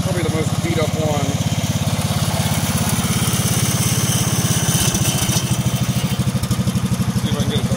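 A Cub Cadet 2166 lawn tractor engine idles steadily up close, a loud, even low thrum with a slightly lopey pulse and some mechanical clatter throughout.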